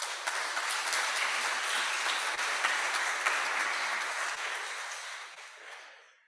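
Sustained applause from a conference audience at a diplomacy festival event, dense steady clapping that holds for several seconds, then thins and fades out at the end.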